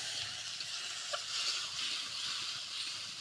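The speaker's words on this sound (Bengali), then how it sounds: "যাতে মশলাগুলো ভালো করে ভাজা হয়ে যায়।" Spice masala fries in a pan with a little water added, making a steady, soft hiss and sizzle with faint stirring, close and low in level.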